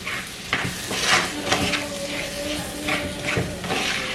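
A spoon stirs a potato mixture cooking in a pot, giving repeated scraping strokes against the metal over a steady sizzle, close and moderately loud.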